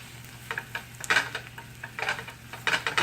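Spinach wilts in a hot pan with a little oil and onions, a soft low sizzle broken by intermittent stirring scrapes and clinks of a utensil against the pan, close and fairly quiet.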